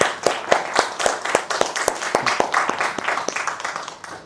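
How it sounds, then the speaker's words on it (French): Studio audience claps in a lively, uneven burst of sharp individual claps that thins out toward the end, recorded close with no talk over it. "Applaudissez!"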